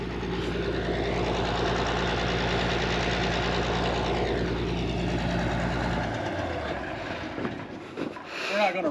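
A dragline's motor runs steadily at idle with a deep, even drone and rattling mechanical hum, then cuts off partway through, leaving quieter clanks and handling noises near the end.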